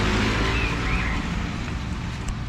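An old Land Rover rumbles along a village road in Maneybhanjang, West Bengal, a steady low engine drone with faint road noise that eases off slightly toward the end.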